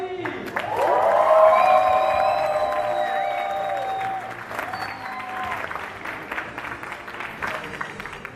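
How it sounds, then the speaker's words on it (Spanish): Applause and cheering from a conference audience greeting the keynote speaker, a zone director, loud and dense from the first second, with whoops rising over the clapping before it slowly thins and fades. "les pido que reciban con un fortísimo aplauso a su OD director de Zona Norte, Alberto Pére"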